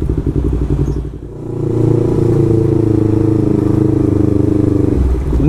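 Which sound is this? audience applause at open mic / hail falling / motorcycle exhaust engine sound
motorcycle exhaust engine sound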